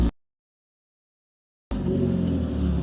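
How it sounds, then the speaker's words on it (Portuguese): A Fiat Palio fitted with an exhaust diffuser idles and revs up after a stretch of silence, a loud, steady low engine rumble with exhaust roar continuing to the end. "abre ele e acelera um pouquinho pra gente ver como ficou o ronco"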